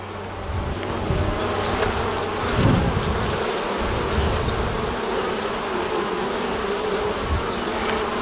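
Africanized honey bees swarm around an open hive holding frames of capped honey, giving a dense, continuous buzz with a steady drone close by and occasional louder passes.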